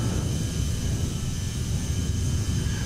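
A CRJ-900 jet in a flight simulator game climbs with a steady, loud, broadband engine roar and a deep rumble. The sound holds constant throughout, with no speech.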